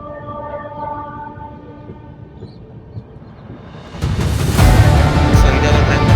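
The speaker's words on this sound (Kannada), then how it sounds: "ಸೊ ಇದೆಲ್ಲ ಟ್ರೈನ್ ಬರ್ತೈತೆ" An express train on an Indian railway route pulls in, its low rumble growing and then swelling into a loud, broadband roar as it arrives close by.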